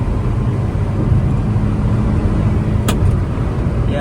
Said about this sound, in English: Let me cut this AC off and do a top speed run right now.